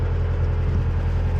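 A narrowboat's diesel engine churns steadily under revs on a shallow canal, a loud, close, low rumbling drone with an even throbbing pulse and no speech.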